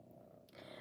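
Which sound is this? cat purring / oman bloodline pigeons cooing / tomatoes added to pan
cat purring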